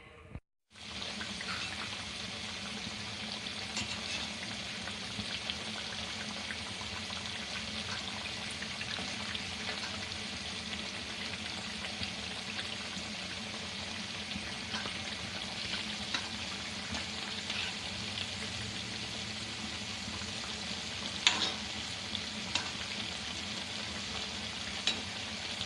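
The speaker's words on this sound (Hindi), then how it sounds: "ये देखिए, इनमें कलर आ गया, गोल्डन फ्राई हो गई है।" Balushahi dough pieces deep-fry in hot oil, giving a continuous dense sizzle and bubbling that holds steady for over twenty seconds, close and even, with a few faint clinks and no voices.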